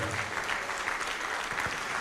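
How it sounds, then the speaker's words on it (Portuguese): A church congregation gives brief, steady applause during a sermon, with a dense crowd of hands clapping evenly. "Vamos aplaudir a Jesus por cada pessoa que está vindo."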